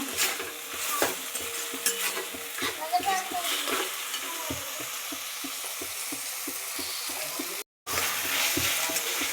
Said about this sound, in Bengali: টমেটোটা যাতে ভেজে যায় সেজন্য একটু আমি টাইম নিয়ে নাড়বো